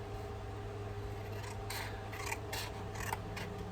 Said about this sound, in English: And I'm going to cut me a strip off